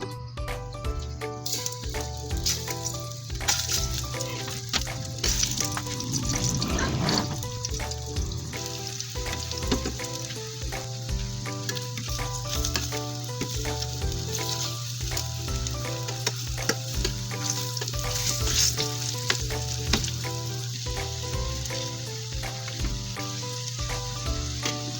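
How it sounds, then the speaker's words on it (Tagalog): Pork fat sizzling and frying in a pan, a steady crackling hiss with occasional stirring and pops, continuous and close throughout. "While waiting sa ating marinade, fry muna natin ang ating taba."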